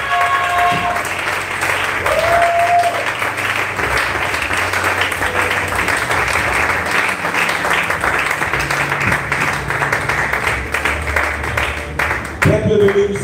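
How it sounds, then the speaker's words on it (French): A church congregation applauds and cheers for God in a loud, continuous wash of clapping and crowd noise lasting the whole stretch, with voices mixed in. "Sois sûr que tu acclames pour Dieu"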